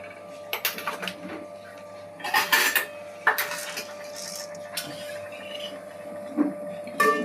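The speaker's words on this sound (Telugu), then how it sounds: "గిన్నె పెట్టుకున్నాను" A cooking pot is set down with a clatter for making coconut milk pulao, followed by scattered metallic clinks and taps of utensils at irregular intervals.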